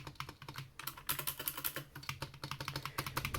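Rapid typing on a Razer Huntsman keyboard fitted with linear switches, a dense, uneven run of close, crisp keystrokes with no voices over it.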